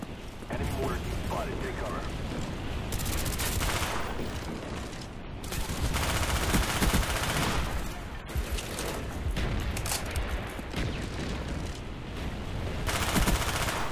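Sustained firefight in Call of Duty Black Ops 2, with continuous rattling gunfire and explosive rumbles filling the whole stretch at steady loudness.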